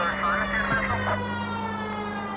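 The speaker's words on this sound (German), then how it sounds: "Die Sirene hat wohl nichts mehr zu bedeuten, wie es aussieht." A police siren in the video game L.A. Noire wails steadily in the background of a city street scene, with a low hum and distant talk beneath it.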